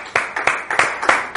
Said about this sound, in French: Merci de recevoir notre premier visiteur que nous recevons maintenant sous vos applaudissements.